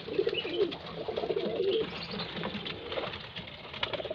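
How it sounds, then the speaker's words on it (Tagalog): Pigeons coo softly and steadily at close range, their low rolling calls overlapping in a continuous murmur, with a few faint chirps among them. "Ito pa yung baby kalapati."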